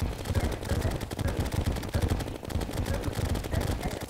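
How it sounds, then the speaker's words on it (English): Rapid weapon fire from a bubble gun in the Terraria video game, a dense continuous stream of shots with a steady rattling rhythm and busy game sounds throughout, no talking. "Bubble gun!"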